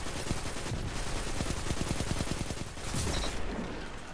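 Rapid gunfire in the video game Ace of Spades, a dense series of sharp repeated shots forming a steady rattle over a noisy game background, no talking.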